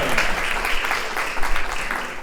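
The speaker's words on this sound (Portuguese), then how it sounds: "Recebo com forte salva de palmas Gleiciane Coelho Freitas Batista" Strong audience applause at an academic round-table session welcoming a panel speaker, a dense, steady wash of clapping lasting throughout.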